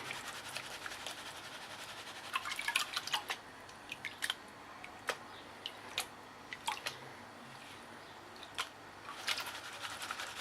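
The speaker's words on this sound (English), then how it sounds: "Bring it back into the pan, work it around again, bring it down, get all your heavies to the bottom, let the water wash it off the top." Gold paydirt being worked by hand in a pan of water, giving a faint continuous swish with scattered sharp gritty scrapes and clicks of gravel against the pan, no talking.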